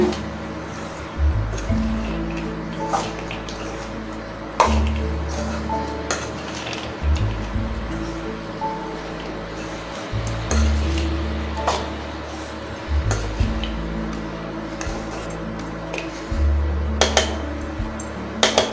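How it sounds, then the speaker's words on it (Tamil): Fried meal maker is stirred into masala in a pan over a medium flame, with a spoon clinking and scraping against the metal at irregular intervals over a soft cooking hiss. "அடுப்பை மீடியம் ஃப்ளேமில் வச்சு இதை அப்படியே கலந்து விட்டுருங்க"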